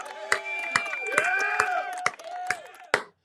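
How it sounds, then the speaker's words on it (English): Loud hand clapping from one person, six or seven sharp claps spaced about half a second apart, over a sustained sung or hummed tone and talk. "Let's go ahead and hand clap for you now"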